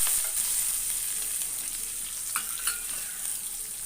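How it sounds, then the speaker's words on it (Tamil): Onions sauté in a hot pan for curry leaf rice, a soft continuous sizzle with a few light stirring scrapes, close and fairly quiet. "வெங்காயத்தை போட்டுக்கிறேன். நல்லா இதையும் நல்லா வதக்கிக்கலாம்."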